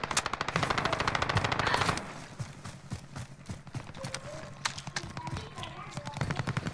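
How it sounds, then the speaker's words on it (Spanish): Rapid automatic gunfire from the video game Warzone, a loud dense burst of shots for the first two seconds, then scattered single and short bursts of shots and game effects with some voices mixed in. "¡Me están disparando!"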